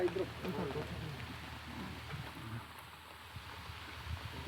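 Rain falls steadily during an annual gurdwara gathering at Gurusar Maddoke, a soft continuous patter on surfaces with low rumbling background and faint voices.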